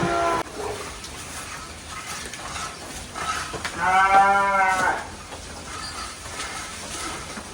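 Goats and sheep bleat over a farmyard background, with one loud, wavering bleat standing out near the middle and quieter calls around it.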